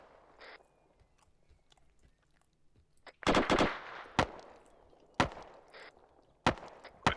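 Sharp rifle shots ring out during airborne section infantry training, a few loud single cracks and one quick burst, spaced irregularly over faint background noise.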